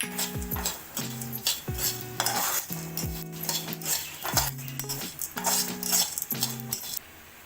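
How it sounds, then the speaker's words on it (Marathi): Chana dal and poppy seeds dry-roasting in a pan for a chicken bhaji, with a spoon scraping and stirring in steady repeated strokes, soft crackling under the scraping, and occasional metal clinks against the pan. "आता ही डाळ भाजली गेली आहे, त्याच्यामध्येच खसखस भाजून घेऊया."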